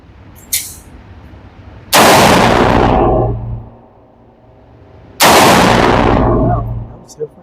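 Two loud, heavy rifle shots from a GQ Armory Paladin 6mm ARC carbon rifle fired outdoors, each a sharp close blast followed by a long rumbling echo that fades over about a second, with a faint click between them.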